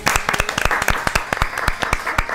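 Studio audience applause on a Spanish-language talk show, sharp individual claps ringing out close and loud in an irregular cluster rather than a smooth wash.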